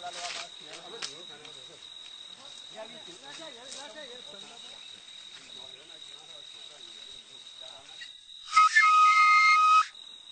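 Donso hunters in the Mandé bush blow a whistle: a shrill, steady high tone runs throughout under faint murmuring voices, then a louder, harsher whistle blast bursts out near the end for about a second.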